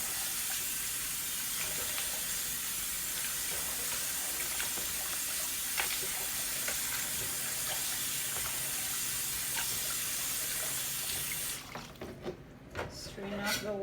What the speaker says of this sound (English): Then I'm going to turn on this pipe and I'm going to wash this.